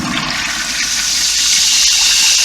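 Water rushes through a just-opened valve while rinsing a precast break room fixture, a steady loud hiss and gush that swells slightly as it flows.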